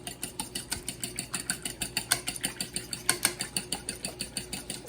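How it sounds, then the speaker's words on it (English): Eggs being whisked by hand in a bowl, back and forth, for matzo ball batter with canola oil: a steady, rapid rhythmic clicking of whisk against bowl, close and even, with no talk. "And when you whisk, you go back and forth, not in a circle."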